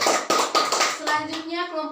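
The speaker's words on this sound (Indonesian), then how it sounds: "Tepuk tangan untuk kelompok 2 dulu." Children applaud a small discussion group in a classroom geography lesson: a short burst of clapping at the start gives way to voices speaking.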